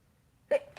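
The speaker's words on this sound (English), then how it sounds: "I held in my sneeze, that's why it sounded like that." A short, stifled burst followed by a brief softer catch, like a sneeze held in, close and quiet with nothing else around it.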